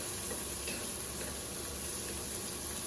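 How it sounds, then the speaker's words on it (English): Cabbage chars in a stir-fry pan with onions and garlic, giving a soft, steady sizzle and crackle throughout, quiet and close with no voices. "I like to char up the cabbage with the onions and the garlic."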